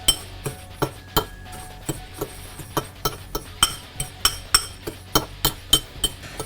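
Kosher salt gets stirred in a bowl for a prime rib rub, with a regular run of light clinking taps of utensil against bowl at about two per second.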